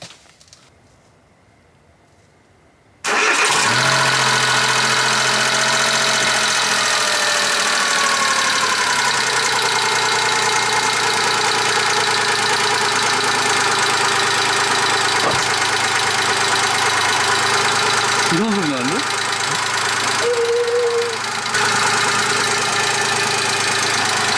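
After a few seconds of quiet, a car engine fitted with an open air intake cranks and catches, then settles into a loud, steady idle with a faint chirp near the end.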